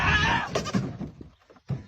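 A goat with its head stuck bleats loudly and close up, one long strained cry followed by a shorter call after a brief pause.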